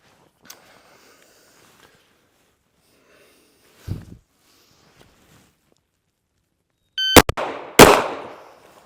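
Rifle shots from a combat shooting drill ring out: two sharp, loud cracks close together near the end, following a long quiet stretch broken by faint handling sounds and one duller thump.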